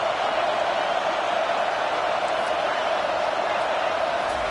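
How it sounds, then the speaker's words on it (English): A football stadium crowd roars continuously and loudly as fans get behind the defense on third down, a steady wash of noise with no break. "Decibels rising as the crowd gets behind this defense on 3rd down."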